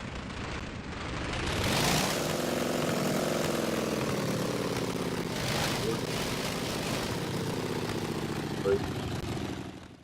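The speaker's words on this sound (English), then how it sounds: "So engine runs." A car engine in the video game Homebrew: Patent Unknown runs steadily for about ten seconds, a close, continuous droning tone whose pitch shifts slowly as it revs, with a faint voice talking beneath it.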